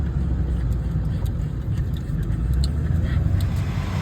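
A tow truck engine bringing in a broken-down RV in upstate New York, a steady, loud, close rumble of motor and road noise that continues throughout.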